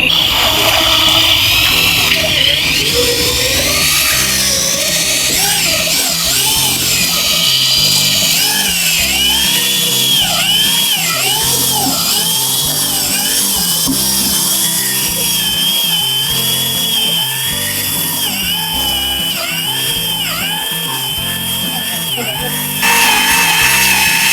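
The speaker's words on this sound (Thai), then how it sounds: "ก็ใช้สว่านปั่นนะครับ" A loud, continuous electric drill whine with a churning, sloshing texture, steady throughout as thick tile adhesive is mixed, no speech.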